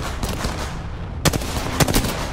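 Gunfire in the battle-royale video game Apex Legends, loud sharp bursts of shots cracking out, with a couple of heavier blasts standing out near the end over constant game noise.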